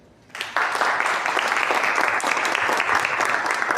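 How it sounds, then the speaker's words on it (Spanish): Applause breaks out abruptly after a brief quiet moment at a book presentation, then continues as a dense, lively clapping from the audience until the end. "Un aplauso para ella."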